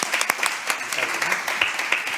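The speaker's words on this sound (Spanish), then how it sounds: "aplauso." Applause from an audience after a talk on risk factors and epidemiology, moderate steady clapping with a few sharper individual claps standing out, heard at some distance.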